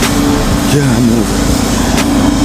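A car stuck in deep snow during a Toronto snowstorm spins its wheels, a steady engine drone with a wavering whine rising and falling, while people talk over it.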